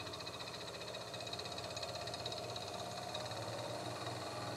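Steady mechanical whir and hum of a one-wire alternator turning on a test rig, continuous and faint with a slight rhythmic pulsing and no speech.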